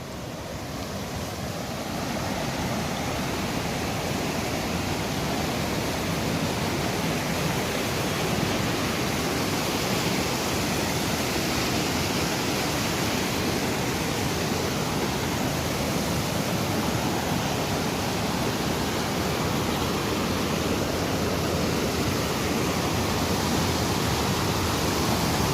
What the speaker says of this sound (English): If I'm not mistaken, this is the Thompson River.